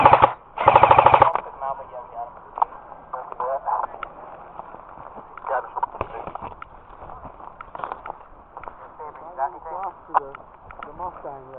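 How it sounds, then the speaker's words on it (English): Airsoft guns fire in rapid bursts during an outdoor skirmish, a loud automatic burst up front followed by scattered single shots and shorter volleys, with players talking and calling out over the shooting. "when the guy in the grotto starts firing"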